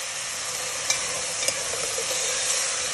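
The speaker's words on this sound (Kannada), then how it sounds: "ಈ ತರ ಹುರ್ಕೋಬೇಕು ಒಂದು 2 ನಿಮಿಷ" Field beans (avarekalu) dry-roasted in raw ragi flour in a pan, a soft, even dry hiss with a couple of faint scrapes, close and steady, no voices.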